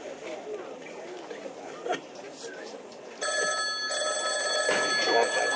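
Telephone ringing in an Italian comedy scene, a bright electronic ring that cuts in sharply partway through after quieter background talk, repeating loudly to the end.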